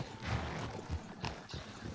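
Horse in the open-world western video game Red Dead Redemption 2 snorting and shuffling its hooves, with soft clopping steps and a brief whinny-like snort, fairly quiet amid game ambience.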